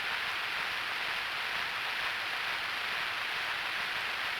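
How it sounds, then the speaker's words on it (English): Steady rain hiss in the Tactics Ogre video game, a constant broadband wash with no distinct drops or other sounds, moderately loud and unchanging throughout. "No one would ever suspect that we'd go through there in this rain."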